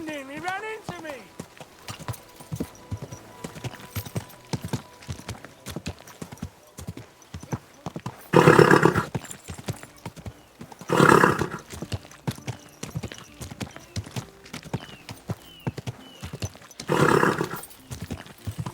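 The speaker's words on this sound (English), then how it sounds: "Don't you know how to keep your horse under control?" Horse hooves clip-clop steadily throughout in the video game Kingdom Come: Deliverance II, with occasional louder neighs and snorts bursting in, while a voice speaks over the scene.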